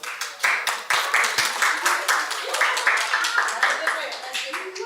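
An audience at a primary school quiz breaks into applause, with dense rhythmic clapping from many hands that stays fairly even and close before tapering slightly at the end.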